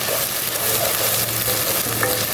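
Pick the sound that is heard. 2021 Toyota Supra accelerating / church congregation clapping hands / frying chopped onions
frying chopped onions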